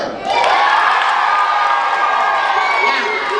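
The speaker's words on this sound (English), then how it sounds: "Let me hear you cheer!" An audience at a live Lewis and Clark history performance cheers loudly, with a sustained roar of voices, high whoops and children's shouts rising quickly and holding steady before easing slightly.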